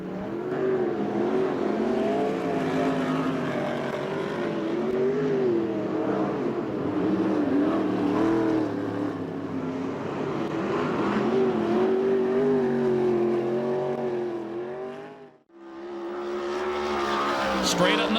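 USAC/CRA sprint cars race at Perris Auto Speedway in a loud, wavering engine howl as they circle the track, cut off by a brief drop near the end before the roar returns.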